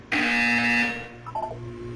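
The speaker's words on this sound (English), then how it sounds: "You will hear a buzzer." A loud electronic buzzer from the Portal 2 video game: a single sustained, harsh tone that starts abruptly and fades over about a second, followed by quieter tonal game sounds.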